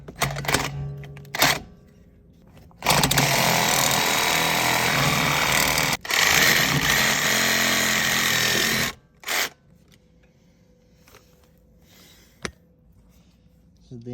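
A power saw cuts out a rear trailing arm bushing on an E36 BMW, a loud harsh buzzing burst of about six seconds bracketed by shorter bursts and quieter workshop handling.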